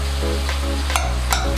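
Pork sausage seasoned with sage and black pepper sizzles steadily in a pan, with a couple of brief scraping stirs over the constant frying hiss.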